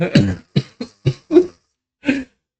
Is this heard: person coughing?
yes